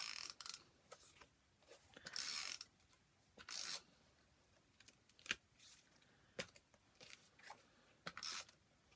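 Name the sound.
tape runner being used on paper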